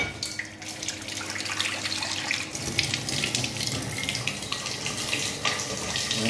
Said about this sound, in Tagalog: Dagdagan ko ng konti ng tubig.